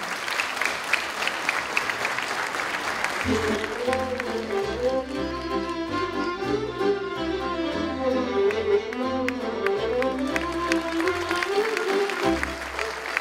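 Audience applause at a musical and choreographic show in Zalău, where a crowd claps steadily at first before a pipe organ enters with a sustained tune that plays over the continuing clapping.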